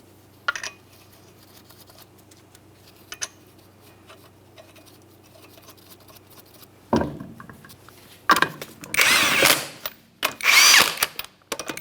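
Impact wrench spinning 19mm lug nuts onto a wheel of a 2012-2015 Honda Civic, heard as short whirring bursts with a few brief taps early on, then loud sustained rattling runs near the end, close by and with no talk.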